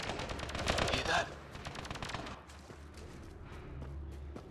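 Rapid gunfire bursts from the sci-fi shooter Mass Effect: Andromeda, loud and dense at first and then thinning to scattered shots under steady ambient noise.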